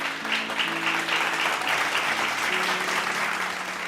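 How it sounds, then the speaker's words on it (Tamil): An audience at a Bible study gathering claps together in a sustained, even burst of applause, with a faint tonal hum running low underneath. "கைத்தட்டுங்க ஒரு தடவை"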